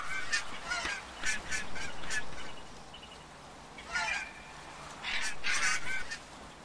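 A cartoon bird in the adventure game Broken Age honks repeatedly in goose-like bursts, several separate calls spread across the stretch with short pauses between them, clear and close against a quiet background.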